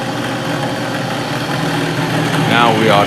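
A loud WEN 4214 12-inch drill press motor hums steadily, then its pitch sweeps upward as it speeds up near the end, with a voice present.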